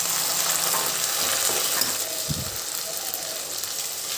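Chopped tomatoes fry in a pan with a steady, dense sizzle, and a spoon stirs and scrapes through them at close range. One short low knock of utensil on pan falls midway, and no voices are heard.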